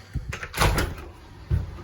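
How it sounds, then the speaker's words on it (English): A house door being unlocked and pulled open, heard as a few close clicks and a brief rattle followed by a louder thump and swish of the door, with no talking. "all I need to do is open up this door, unlock it"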